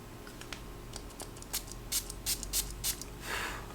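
Fragrance bottle spray pump misting onto a hand, several short soft hissing bursts in quick succession, close and fairly quiet with no talking.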